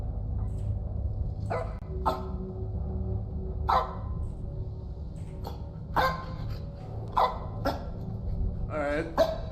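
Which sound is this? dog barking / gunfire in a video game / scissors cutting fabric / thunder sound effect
dog barking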